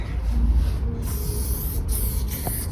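A can of Molotow cadmium yellow spray paint used for graffiti live painting at an outdoor b-boy festival, hissing in several close, loud bursts against a steady low rumble of the surroundings.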